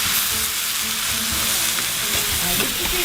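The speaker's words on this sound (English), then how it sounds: "fries up some kimchi and some chives, and then uses a buckwheat batter to fry up the pancake" A buckwheat-batter pancake with kimchi and chives fries at a Korean street food stall, a loud, continuous close sizzle of hot oil that fills the whole stretch with crackling hiss.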